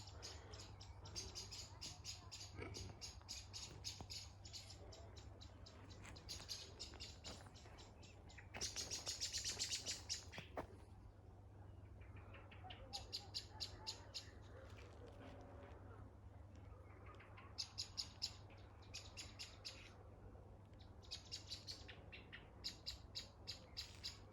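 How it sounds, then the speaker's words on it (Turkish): Birds chirp and tweet in bursts over a steady low hum outdoors, with occasional voices talking quietly in the background. "Kuş sesleri."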